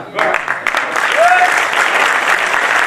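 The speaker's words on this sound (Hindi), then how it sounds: "आपकी तालियां ही बता रहे हैं कि मयंक कितने लोकप्रिय हैं" Loud, close applause from an audience at an Indian kavi sammelan greets a poet, dense clapping rising quickly and holding, with a faint voice calling out briefly through it.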